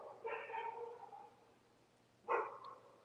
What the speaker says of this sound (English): the dog is on the road barking